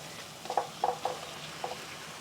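Tofu simmering in black bean sauce in a pan on low heat, a faint steady sizzle broken by a few soft clinks and stirring taps.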